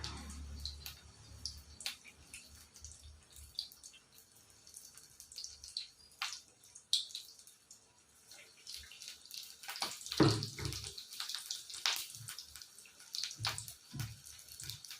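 Green chili fritters (mirchi bajji) fry in very hot oil with a steady crackling sizzle, dotted with sharp pops and spits that swell in the middle of the stretch.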